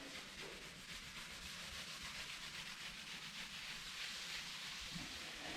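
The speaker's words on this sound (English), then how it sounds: "I'll just go across it with a Scotch-Brite pad" A Scotch-Brite pad scrubs across the surface of a steel welding fixture table in a steady, close, hissing rub with quick repeated strokes and no talking.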